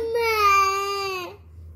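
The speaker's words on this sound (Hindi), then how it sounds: "बच्चा स्कूल नहीं जाएगी, रो रही है बैठ के" A young girl cries in one sustained, wailing sob that is loud and close, then breaks off abruptly.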